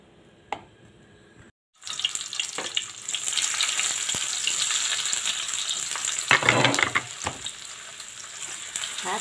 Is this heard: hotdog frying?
yes